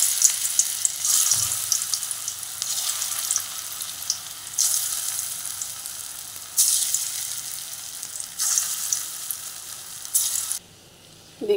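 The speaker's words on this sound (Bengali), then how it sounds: "গরম তেলে এগুলো দিচ্ছি।" Banana flower pakoras fry in hot oil with a steady, close sizzle that swells in bursts and drops away near the end; no one speaks.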